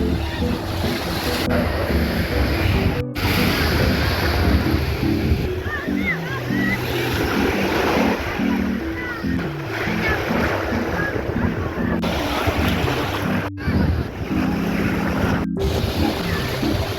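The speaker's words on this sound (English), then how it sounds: "Honestly, there were many waves." Ocean waves roll onto a summer beach in a steady, loud, continuous wash of surf, with a layered tonal sound running underneath throughout.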